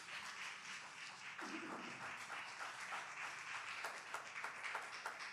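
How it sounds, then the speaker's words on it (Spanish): Church congregation applauding for Jesus Christ during a Spanish-language worship service, a steady dense wash of clapping sustained throughout, moderately loud with no talk over it. "Dele un aplauso a Jesucristo."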